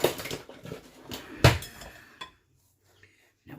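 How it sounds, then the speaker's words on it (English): Two egg yolks beaten in a bowl, a quick run of whisk or fork clinks against the sides that stops, with a louder knock in the middle and then near silence. "just put the 2 egg yolks in here. All right, so we're just going to beat this up"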